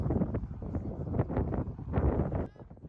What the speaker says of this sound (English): It's terribly windy, so I'm assuming my audio is going to be shot to pieces.